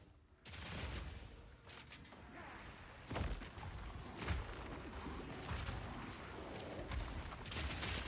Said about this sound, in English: there's a corpse explosion